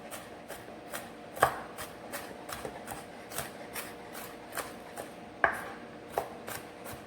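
A knife chops food on a board for a country soup in a steady run of crisp taps, a few sharper louder strikes among them, close and clear with no talking.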